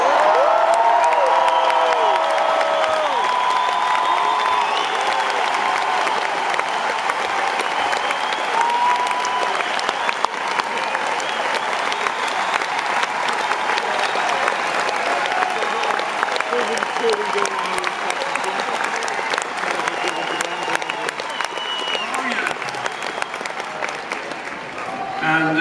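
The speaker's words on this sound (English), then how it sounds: "Let's hear it for John!" Concert audience applauding steadily with scattered cheers and whoops, loud and sustained throughout, after a singer dedicates a song to someone named John.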